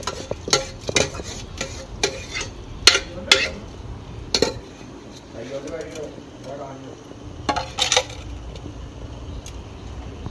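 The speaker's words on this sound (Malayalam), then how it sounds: "അരി ഇട്ടുണ്ട് ഇളക്കി." Rice being stirred in a pot while kuthiri payasam is cooked at home for a Niraputhari harvest ritual, giving irregular scraping clinks of a spoon against the metal at close range, with speech heard in between.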